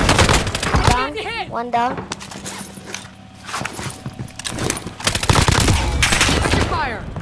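Call of Duty gunfire rattles in rapid bursts amid game effects while players talk over it, the shots loud and close at the start and end with a quieter stretch between.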